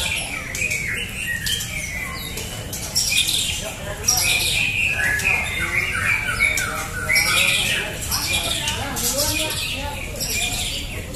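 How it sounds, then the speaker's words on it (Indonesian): A white-rumped shama (murai batu) with blotchy plumage sings at a bird contest, loud and close, pouring out a rapid run of varied whistles, squawks and chirps. Other birds call faintly behind it. "burung Murai Batu"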